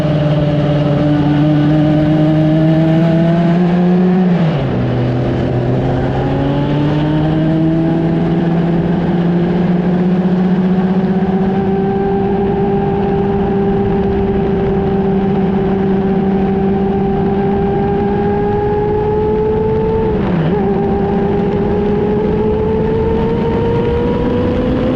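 A vintage Ed Pink race car engine runs loud and close in a restoration shop, holding a steady rough idle for the whole stretch, with two sharp throttle blips that dip and swing its pitch.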